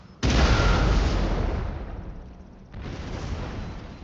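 A cannon booms in a strategy video game, a sudden loud blast that fades into a long rumbling decay, followed by a second heavy burst.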